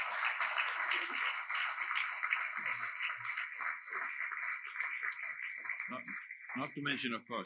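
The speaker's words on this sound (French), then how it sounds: "On les applaudit." Audience applause at a seminar on light and its techniques, a dense continuous wash of clapping throughout, with voices and chatter mixed in and a speaking voice emerging near the end.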